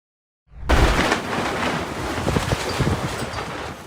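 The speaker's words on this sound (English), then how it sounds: "wind gusts reached 50 miles per hour and created a severe dust storm" Strong wind roars in suddenly after a moment of silence, a dense, rumbling gusty rush of 50 mph gusts in a Nevada dust storm that stays loud and buffeting throughout.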